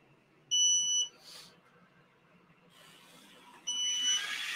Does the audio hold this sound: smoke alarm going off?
yes